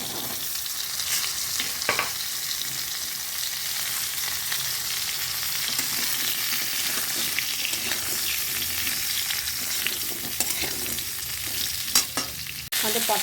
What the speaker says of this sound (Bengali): এবার আমরা পটল আলু ভাজবো।